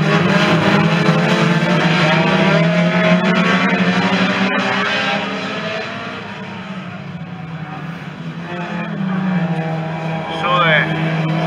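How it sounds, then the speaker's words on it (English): Hot saloon race cars roar around a circuit, a loud sustained engine drone rising and falling as cars pass, with commentary running over it throughout. "Murray Noyce was coming in the number 12 car"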